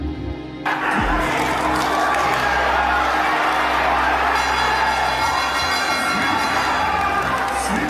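A crowd of Japanese fans yelling at a boxing match against a Filipino fighter: a roar of cheering and shouting that swells abruptly after a brief quieter start, then holds loud and continuous.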